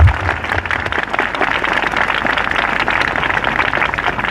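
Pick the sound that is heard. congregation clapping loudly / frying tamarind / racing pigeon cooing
congregation clapping loudly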